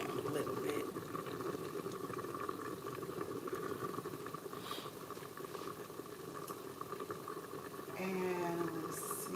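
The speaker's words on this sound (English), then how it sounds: "now let me simmer it down a little bit" Chicken and rice soup simmering in a pot, a continuous bubbling, hissing boil close by, with faint kitchen clatter near the end.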